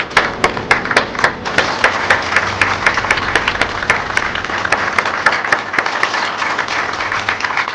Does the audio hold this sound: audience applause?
yes